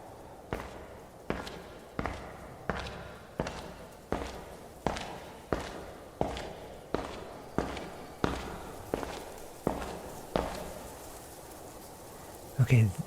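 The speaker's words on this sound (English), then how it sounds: "I'm going to go up the stairs." Footsteps climb a staircase in an audio drama set at a palace tower, about a dozen evenly spaced, moderately loud treads that slow slightly near the top, followed by a brief knock or bump.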